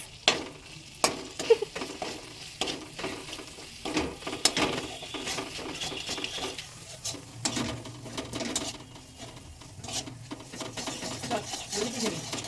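Prawn malaikari being stirred in a pan: a spoon scrapes and clacks against the metal in quick irregular strokes over a steady low sizzle, close and moderately loud, with no talking.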